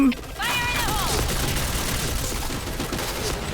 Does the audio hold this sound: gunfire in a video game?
yes